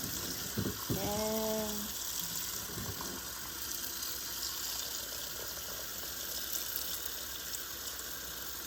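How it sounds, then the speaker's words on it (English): Water runs steadily into a pot of washed beef for Liberian peanut butter soup, a continuous close splashing rush lasting the whole stretch, with a brief spoken word near the start. "I'm just adding water"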